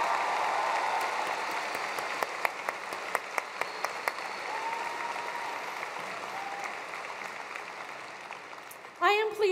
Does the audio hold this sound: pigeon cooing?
no